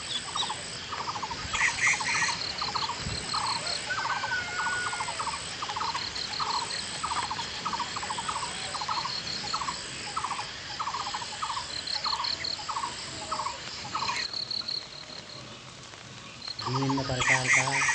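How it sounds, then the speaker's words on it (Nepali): Village birds such as barbets and koels sing in a long, steady chorus of repeated rhythmic calls, moderately near, over a bed of insect buzzing, with a brief different call bursting in at the end. "विभिन्न प्रकारका न्याउली, कोइली जस्ता चराचुरुङ्गीहरूले आफ्नै लयमा विभिन्न प्रकारका वाद्य गीतहरू गाएको भान हुन्छ"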